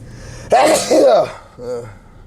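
A loud, close sneeze bursts out, followed by a brief voiced sound.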